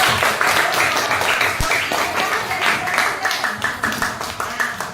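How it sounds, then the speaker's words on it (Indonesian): Schoolchildren clap their hands in a classroom, a lively stretch of clapping with distinct, somewhat rhythmic strikes that stays up close and fairly loud throughout. "Kasih tepuk tangan dulu ya anak sekolah."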